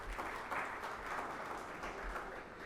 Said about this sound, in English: So big round of applause for our chairman and the chapter.